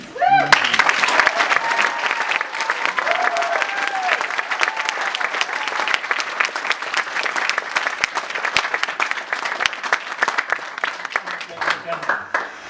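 A gala audience breaks into steady, hearty applause that rises quickly after a brief spoken line and keeps going at an even level for over ten seconds, with some sharper claps standing out near the listener.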